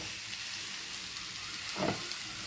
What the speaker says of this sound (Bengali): এবার পটলটা ভাজবো দেবো হলুদ